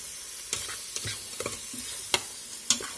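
Seasonings with a splash of Worcestershire sizzle and toast in an Instant Pot, a steady close hiss broken by scattered clicks and light scrapes of stirring, with no voices.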